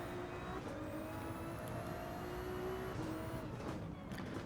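A Ferrari engine in Gran Turismo 7 drones steadily and loudly throughout, its pitch holding fairly level with slight rises, with no talk over it.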